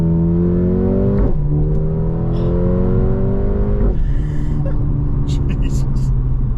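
A Mercedes-AMG A35 engine hums steadily and rises in pitch as the car accelerates, with a brief drop before climbing again, heard from inside the cabin while people talk and exclaim over it.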